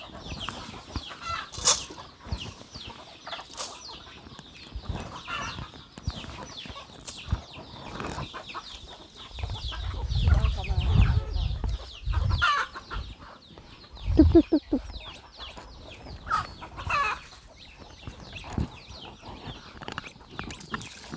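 Chickens clucking in a pen, with scattered sharp clucks and squawks at varying distances, a few bursts of wing flapping, and low rumbling handling noise in the middle.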